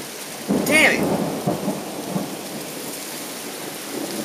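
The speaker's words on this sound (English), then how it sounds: "There's actually a lot of lightning included in this storm." Thunder rumbles and rain pours steadily during a night thunderstorm with frequent lightning, a loud crack of thunder near the start giving way to continuous rainfall.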